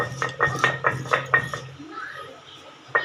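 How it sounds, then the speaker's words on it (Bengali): Fried chillies are crushed with a hard utensil, giving a quick run of about six sharp knocking clinks, then a quieter pause with faint talk and one last knock. "এই লঙ্কাগুলোকে আমি আগে পিষে নেব"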